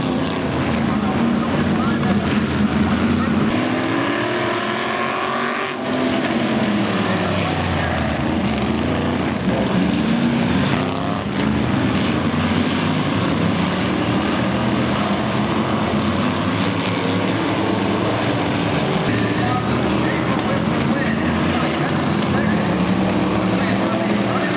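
Vintage sportsman race cars roar around a speedway track during a heat race, a steady, loud blur of engines with rising and falling passes, under announcer-style talk throughout.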